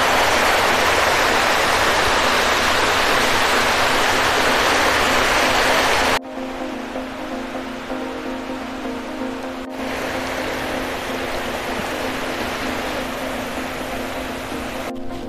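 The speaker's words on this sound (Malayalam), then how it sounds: "ഇവിടുന്ന് ഇപ്പുറത്തായിട്ട് വെള്ളം അല്ലാതെ ഒഴുക്കി വിടുന്നുണ്ട്" Water spilling out beneath a village aqueduct bridge makes a steady broadband rush, loud and close, then drops abruptly to a quieter, more distant flow with a faint hum underneath.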